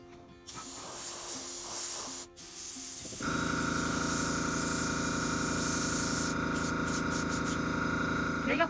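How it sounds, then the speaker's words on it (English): Aerosol spray can laying pearl white paint onto a handmade balsa wood bluegill crankbait lure, a steady broad hiss that starts partway through and runs continuously, close and loud, with a few short bursts near the end. "I sprayed the pearl white also"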